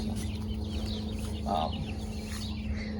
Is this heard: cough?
no